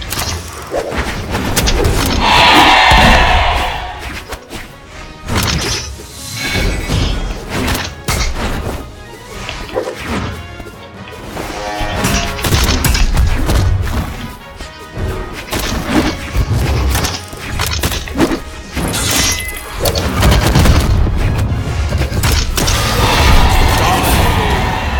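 A bomb blast in a video game fight comes as a loud crash and boom, with heavy thuds and whooshes in a dense, continuous mix of game effects and music, while a voice talks intermittently.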